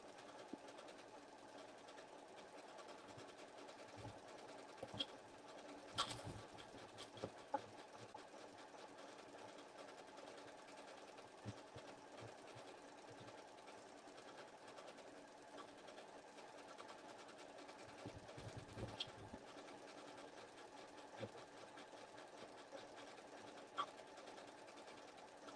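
A sewing machine runs steadily while stitching appliqué, its fast continuous whirring hum lasting throughout at moderate, even loudness, with a few brief clicks and taps along the way.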